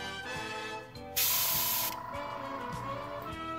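An airbrush sprays paint while customizing a GI Joe figure, giving a loud, steady hiss about a second long that rises sharply over quieter background noise and then cuts off.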